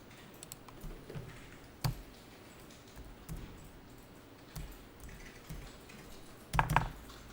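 Computer keyboard typing while data is entered into accounting software: quiet, irregular keystroke taps and clicks in short clusters, with a few sharper presses, near and soft and with no voice over them.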